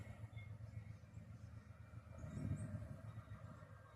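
A train rolls slowly through a rail yard, a faint low rumble that swells a little midway and then holds steady, heard from a distance.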